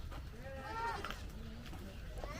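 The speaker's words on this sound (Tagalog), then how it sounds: "There's a lot of goat here." Goats in a rural yard in the Philippine province, with a short wavering bleat rising over background chatter and ambient noise, fairly faint and partly masked by voices.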